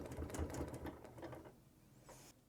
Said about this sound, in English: I'm just going to do a little bit of a back stitch so I can trim the threads